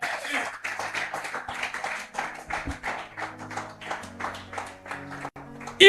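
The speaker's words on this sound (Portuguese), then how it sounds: "alguém pode aplaudir a Jesus aqui" A church congregation claps during a Portuguese-language sermon, with quick, repeated hand claps in an uneven rhythm mixed with voices, ending in a louder swell.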